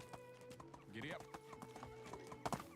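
A horse ridden in the medieval game Medieval Dynasty clip-clops along in a quick, even hoofbeat rhythm with a brief whinny-like call, close and fairly quiet.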